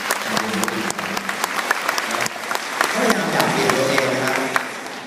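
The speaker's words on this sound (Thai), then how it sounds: "ปรบมือให้กับความเพียรพยายามนะครับ" Audience applause for a Thai business speaker's story, a sustained, fairly dense patter of clapping from a crowd, with voices murmuring underneath.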